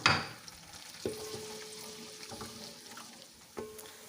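Steady sizzling of sliced onions frying in hot ghee, with a few louder stirring scrapes and clatters; no voices.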